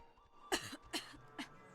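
A character in the video game Oxenfree coughs three times in quick succession, fairly soft and close, over a quiet background.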